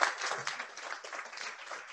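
Audience at a design residency final presentation in Vancouver clapping for a group of students, a brief, faint, steady patter of applause.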